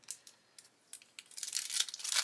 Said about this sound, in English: These bags are a nightmare to open sometimes